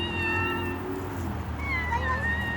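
A kitten meows insistently and close, drawn-out plaintive cries that overlap and rise in pitch, with a low background hum.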